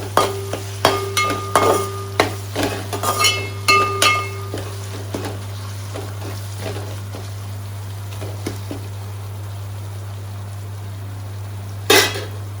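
Spoon stirring and scraping through biryani masala frying with tomato, mint and turmeric in a pan, with a series of clinks and taps on the vessel over a steady low hum, then a last sharp clatter.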